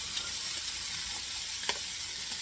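Day-old rice sizzles and fries in a hot pan for Spam fried rice, a steady close hiss with faint stirring scrapes and a brief clatter.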